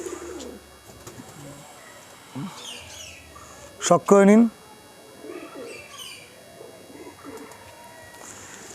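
Pigeons coo softly in the background, with one louder, closer bird call in the middle; a person speaks briefly over the birds.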